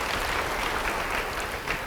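Church congregation clapping in applause during a sermon, a steady dense wash of hands throughout, moderately loud and continuous, with no talk over it.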